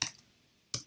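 A few sharp keystrokes click on a computer keyboard, a quick burst at the start, then a pause and two more close taps near the end.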